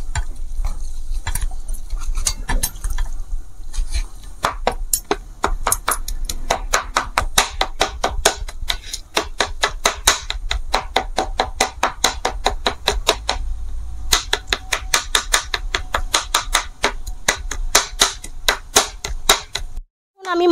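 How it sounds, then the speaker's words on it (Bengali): Knife chopping chicken into mince on a board for momo filling, a rapid, steady, close series of sharp chops running almost nonstop for twenty seconds. "আমি মাংসটাকে এইভাবে কিমা করে নিচ্ছি।"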